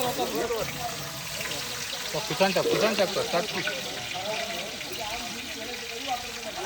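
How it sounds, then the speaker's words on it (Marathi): A low, steady sizzle of onion frying in hot oil runs beneath overlapping conversation, with a brief louder burst partway through. "तेल तर गरम झाला आणि फोडणीसाठी आता एक कांदा टाकतोय"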